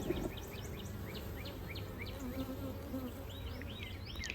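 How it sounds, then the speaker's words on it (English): Bees hum and buzz steadily around flowering Texas persimmon trees, a dense close drone of many insects with individual buzzes passing near, and no talk. "So you can stand under the tree and just hear the hum and the buzz of the bees."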